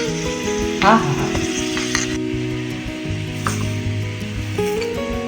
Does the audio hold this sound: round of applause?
no